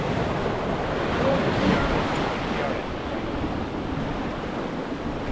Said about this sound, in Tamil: வேறு அலை பயங்கரமாக அடிக்குது